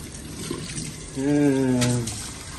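Fast water drains through a sink that has just been cleared of a clog, a steady trickling rush heard close up, while a person speaks over it partway through.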